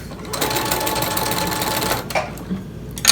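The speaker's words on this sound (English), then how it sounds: "We're going to back stitch this as well. We're going to sew off." A sewing machine back stitching a fabric face mask, running in a fast, steady mechanical whir for about two seconds, then stopping with a few short clicks and a final clunk.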